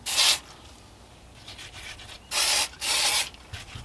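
Stain is rubbed by hand onto a Bigfoot foot cast, giving close, dry scrubbing strokes in short bursts separated by quiet pauses.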